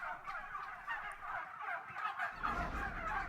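Thousands of turkeys crammed inside a bleak shed on an Irish turkey farm gobble and call continuously, a dense overlapping chorus that fills the space, with no voices.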